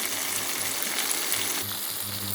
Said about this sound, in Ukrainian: рибку підсмажую до золотавого кольору